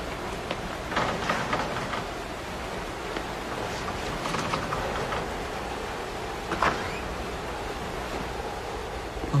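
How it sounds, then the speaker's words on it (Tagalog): Steady, dense rain hiss fills the whole stretch with a constant wash of noise, broken by a few faint bumps, and no voices. "lakas talaga ng ulan"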